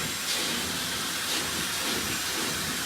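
Hair dryer with its nozzle removed blowing on short layered pixie-cut hair, a steady close airy hiss of constant loudness throughout.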